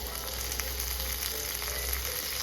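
Shallots, crushed garlic and tomato fry in hot oil with a steady, close, even sizzle that holds throughout, with no talking over it.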